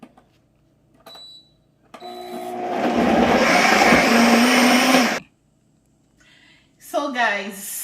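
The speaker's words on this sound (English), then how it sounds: "then you blend it." A kitchen blender whirs loudly for about three seconds while blending an immune booster juice of ingredients and water, cutting off abruptly, with brief quieter sounds and a voice speaking before and after.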